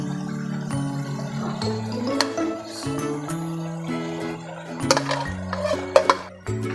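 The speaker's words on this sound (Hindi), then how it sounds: "दही डाल दिया। अब इसको अच्छे तरीके से हम मिक्स करते हैं।" A spoon stirs yogurt into moringa meat masala in a pot, with scattered scrapes and metallic clinks that grow sharper near the end, heard under background music.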